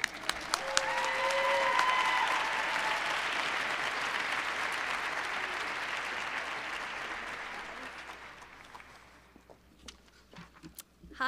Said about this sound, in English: Please give a round of applause to Aliyah,